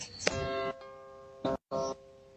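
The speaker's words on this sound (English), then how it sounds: "She's at the man's house ringing his doorbell." A house doorbell rings in three bursts, the first a longer ding-dong chime with a sharp strike and the later two shorter and cut off, each tone loud and close with steady ringing harmonics.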